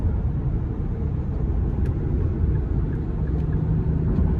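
A 2019 Infiniti QX60 Lux with a naturally aspirated V6 accelerating, heard from inside the cabin as a steady, dense low engine and road rumble that swells slightly toward the end, with no talking.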